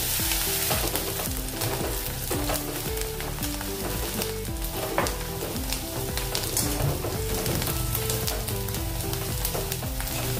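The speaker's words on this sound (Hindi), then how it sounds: "प्याज को भी मैंने बारीक काट लिया है। इसको थोड़ा सा कलर आने तक और नरम होने तक भूनेंगे।" Finely chopped onions frying in a pan, a dense, steady sizzle with occasional stirring scrapes running loud and close throughout, with no talk over it.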